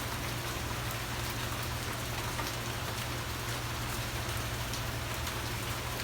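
Steady rain falls in Key West, a dense, even hiss of drops on surfaces with no pauses, moderately loud and with no voices over it.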